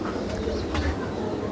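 Red-marked high flyer pigeons cooing close by, soft low throaty coos over a steady background hum.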